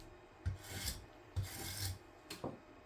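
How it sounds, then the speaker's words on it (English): A wire brush scrubs loose material out of a two-sided wooden Viking mask carving in three close, rasping strokes. Each stroke opens with a sharp attack and runs about half a second, with brief pauses between strokes. "just using a wire brush, and I'm just brushing this out"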